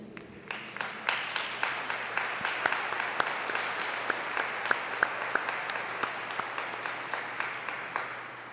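A church congregation at a novena for the Assumption applauds pilgrims from Charlevoix, a steady wash of clapping from many hands that swells and holds for several seconds, with a few sharper claps standing out.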